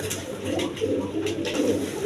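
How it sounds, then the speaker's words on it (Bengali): Several big pigeons offered for sale keep up a soft, rolling cooing nearby, the repeated throaty calls blending over a low background hum. "একদম ছটপটা কবুতরগুলো দেখেন"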